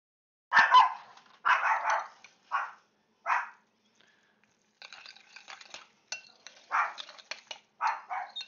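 A dog barking in a series of short, sharp barks with brief pauses between them, fairly close and clear, alongside some lighter clattering sounds.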